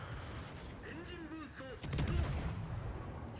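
Naval guns of a Harugumo destroyer fire shells at an enemy ship in a warship battle game, a heavy broadband boom rolling out midway under a voice.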